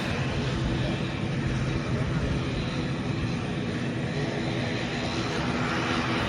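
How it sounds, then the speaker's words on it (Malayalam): A steady, loud engine roar of an IndiGo passenger jet taxiing to turn for takeoff at Calicut airport, holding constant throughout. "ചെന്നൈയിലേക്ക് പറക്കാൻ പോകുന്ന ഇൻഡിഗോ ഫ്ലൈറ്റ് ടേക്ക് ഓഫിന് വേണ്ടി ടേൺ ചെയ്യാൻ വേണ്ടി പോവുകയാണ്"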